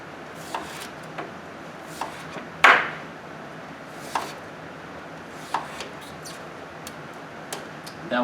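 A kitchen knife peeling skin from a butternut squash on a cutting board gives soft, sparse taps and scrapes at irregular intervals, one sharper knock standing out, all quiet and close.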